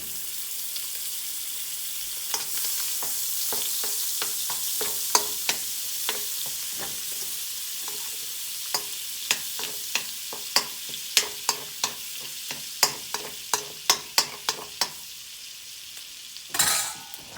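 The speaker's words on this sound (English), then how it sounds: "Now for that same wok, I'm adding 1 tablespoon of butter." Butter sizzling in a wok during stir frying, a steady bright hiss throughout with a run of sharp spatula clacks against the pan growing more frequent toward the end.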